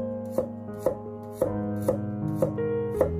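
Knife strokes on a cutting board as garlic cloves are sliced thin, six crisp evenly spaced chops about half a second apart, close and clear over steady background music with no talking.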